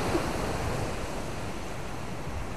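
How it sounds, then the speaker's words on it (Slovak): Sea waves break against a rock at the foot of a cliff, giving a steady, close, broadband wash of surf with no voices. "Chcem zachytiť vlnu, ktorá sa rozbije o skalu."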